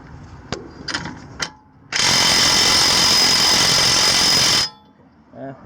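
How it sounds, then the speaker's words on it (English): Loud, continuous metal-on-metal grinding whine while removing an axle cup from a Galant VR4 differential, lasting about three seconds after a few short clanks, then cutting off abruptly. "It was really loud, that metal on metal sound."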